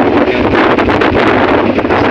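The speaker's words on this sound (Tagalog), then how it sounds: "Super napalakas ng hangin." Strong seaside wind buffets the microphone in a loud continuous roar, with gusty rustling throughout and no voices heard.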